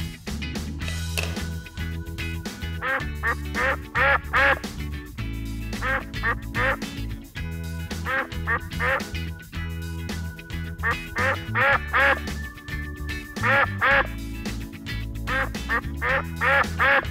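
Cartoonish duck quacking with playful music in a children's Play-Doh duck-making video, repeated bright quacks landing in rhythmic bursts over a steady musical backing.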